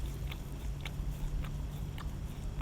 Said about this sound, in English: Listen to you slurping.